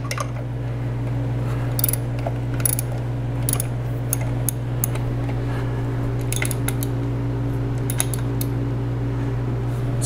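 Bolts being snugged down on a 2019 Mercury 150 Pro XS four-stroke outboard during accessory belt work: sparse metallic ratchet clicks over a steady, loud mechanical hum.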